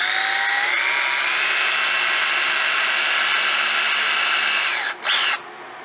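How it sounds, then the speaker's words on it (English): A power drill bores a pilot hole into hard Hardie plank fibre-cement siding with a loud, steady high-pitched whine that holds for about five seconds, dips briefly, revs once more and then stops. "And then I'm going to drill a pilot hole."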